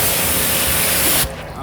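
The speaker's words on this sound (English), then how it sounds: "So I'm gonna spray it on a couple of sections and let it eat for a bit" Iron decontamination remover sprayed onto car paint during detailing: one loud, continuous hissing spray burst for a little over a second, then it cuts off abruptly.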